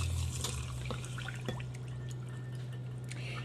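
Water pours steadily onto a cup of dry quinoa in a cooking pot, a continuous close trickle with a few drips and splashes over a low hum, with no talking.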